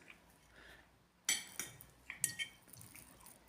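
A fork cuts through Valentine's Day cake on a plate, giving a few sharp clinks and scrapes of metal on china, close and fairly quiet, with brief pauses between strokes.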